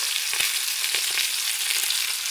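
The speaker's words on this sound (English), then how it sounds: "Oh yes, that's how you cook a steak." Steak frying in a pan on a camper van stove, a steady bright sizzle and crackle filling the space close up, with no voices.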